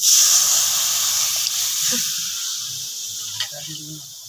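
Raw hog plums frying in a pan, giving a steady loud hiss and sizzle throughout, with a couple of faint knocks and a brief low voice near the end.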